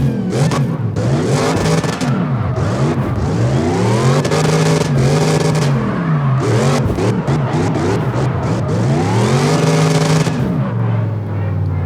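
A car engine in the CarX Drift Racing Online 2 video game revs loudly and continuously through a warm-up donut, its pitch rising and falling in repeated sweeping arcs with tire-scrub noise.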